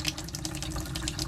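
Opened faucets in an RV run with a steady, close rush of flowing water and a low hiss through the pipes.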